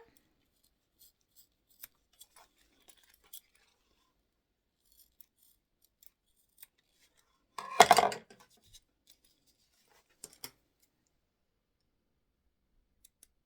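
Quiet, sparse clicks, then one brief burst of scissors snipping off excess zipper tab near the middle, with a few more small clicks afterward. No one talks.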